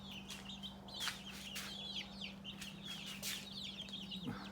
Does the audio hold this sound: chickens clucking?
yes